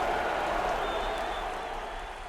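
A stadium crowd in a football video game cheers after a touchdown, a steady broad roar of applause and cheering that fades slightly toward the end.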